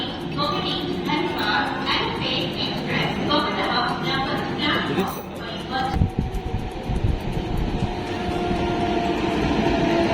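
A passenger train on the Araku line rolls slowly along the track, giving a steady low rumble and rattle with soft clanks, while faint voices murmur in the background.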